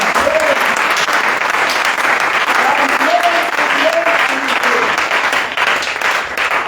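A church congregation applauding during a French-language sermon, dense sustained clapping throughout with voices calling out under it.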